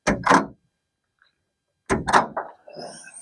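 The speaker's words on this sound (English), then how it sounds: "The latches are super quality. They got a good click to them, a good sound." Latches on an Overland Vehicle Systems expedition truck cap are snapped shut, giving two separate close, sharp clicking thunks with a short silence between them and a softer rattle after the second.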